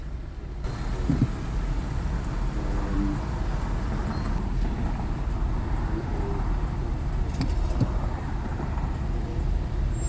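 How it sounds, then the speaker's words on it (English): Bumper-to-bumper road traffic hums close by, with idling cars and trucks, a brief air-brake hiss and high whines over a steady low rumble. "Bumper to bumper traffic."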